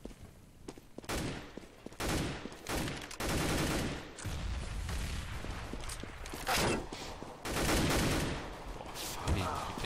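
P250 pistol fire in a Counter-Strike match on de_nuke, heard as repeated sharp shots in irregular bursts that spread across the clip, loud and close, with a commentator's voice faintly underneath.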